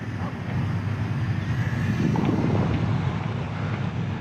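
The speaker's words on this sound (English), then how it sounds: "Now again, a little bit of wind behind me." Steady outdoor wind buffets the microphone in a continuous low rumble while a small 400mm Eachine BF109 micro warbird RC plane flies, with no distinct engine whine rising above the blustery noise.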